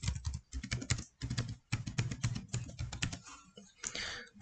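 Password being typed on a computer keyboard, a close run of quick, uneven key clicks in short bursts with brief pauses between groups.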